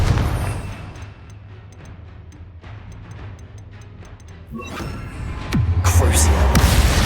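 A Confringo fire spell in Hogwarts Legacy bursts into a booming explosion after a quieter stretch of ambient tones and faint chimes, and the heavy rumble carries on loudly to the end.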